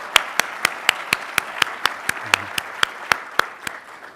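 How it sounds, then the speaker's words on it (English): Audience applause at a Charleston Animal Society annual meeting, a steady run of sharp, evenly spaced claps, fairly loud and close, with no talk over it. "you deserve a round of applause"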